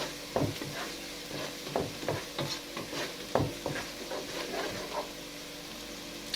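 Onion and garlic fry quietly in a pan under a soft steady sizzle, with irregular scrapes and clinks of a utensil stirring them.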